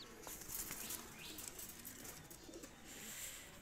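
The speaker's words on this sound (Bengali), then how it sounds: "দুইটা কবুতর আমি ছেড়ে দেখাচ্ছি, দেখেন" A pair of young red-necked pigeons set loose, their wings flapping in a low, steady flutter with faint cooing beneath, heard from a distance and fairly quiet throughout.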